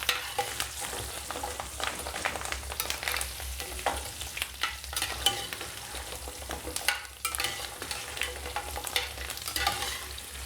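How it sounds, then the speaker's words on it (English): Thyme leaves and potatoes frying in hot beef fat, a close, continuous crackling sizzle with occasional stirring clatter, no voices over it. "you can hear all that thyme sizzling away"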